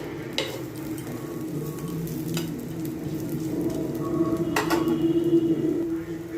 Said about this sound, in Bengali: প্রথমে পরোটাটা দিয়ে একটু ভেজে তারপর আমি তেল ব্রাশ করে ভাজছি